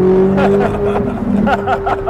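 A Corvette Z06 fitted with an Eventuri intake and Paragon Performance exhaust accelerates hard, its engine note loud and close and rising steadily while people talk over it.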